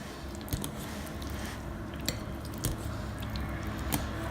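Cheese being worked by hand into an egg mixture for a cheesecake, heard as soft, steady wet squishing with a few faint clinks of utensils against a bowl, close and low.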